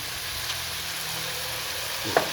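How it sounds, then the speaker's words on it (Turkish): Browned venison and vegetable stew with homemade tomato sauce sizzles in a pan as it is stirred, a close steady frying hiss with a brief scrape of the spoon near the end. "Karıştırıyorum."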